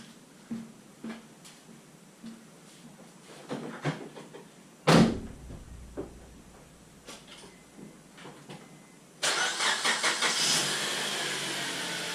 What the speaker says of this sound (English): So I'm going to back it out and see what happens.